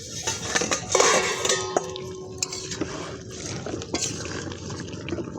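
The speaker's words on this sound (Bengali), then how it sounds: "এবার এই যে গামলাটা দিয়ে একটু ঢাকা দিয়ে নেব, যাতে একটু সেদ্ধটা হয়ে যায় তাড়াতাড়ি।" A metal bowl is set over a cooking pot of chicken and potatoes as a lid, giving a few close metallic clinks and scrapes over soft bubbling, with no talking.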